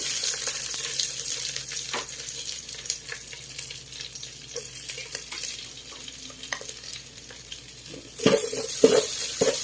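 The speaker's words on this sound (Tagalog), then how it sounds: "Gigisa na natin ang ating mga bawang." Garlic sautés in a pan for a Filipino pakbet Ilocano dish, a steady hiss with scattered utensil clinks and stirring, growing louder and crackling near the end.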